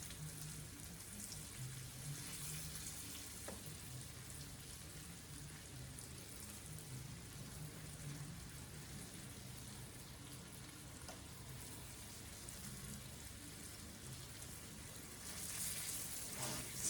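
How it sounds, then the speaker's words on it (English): A steady, even sizzle of chicken strips frying in hot oil, crackling continuously throughout with no talking. "See, they're frying nicely."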